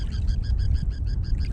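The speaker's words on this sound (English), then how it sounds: "I'm getting closer to this bird." A bird near a kayak gives a string of short, bright, repeated calls in a steady rhythm, close and clear over a low rumble of wind and water.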